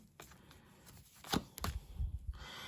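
Tarot cards are shuffled and slapped down in a few quick, crisp flicks at close range, with soft rustling between them and no talking.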